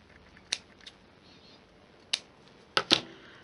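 Scissors trim card stock for a handmade Christmas card, giving a few sharp, close snips spread over a few seconds, with the last two coming in quick succession against a quiet room.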